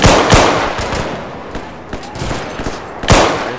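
Gunfire in Insurgency: Sandstorm, a rapid series of sharp, loud shots with a few heavier bursts, close and punchy, with no talk over it.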